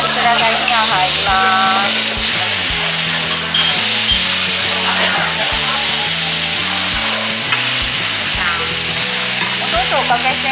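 A hamburger steak sizzling loudly on a hot iron plate at a Sawayaka restaurant in Hamamatsu, the fat crackling and hissing continuously at close range while low background music and faint voices run underneath.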